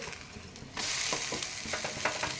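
Oil sizzles loudly in a pan as an oats pancake is flipped, quieter at first then surging into a steady crackling fry, with a few soft scraping taps over it.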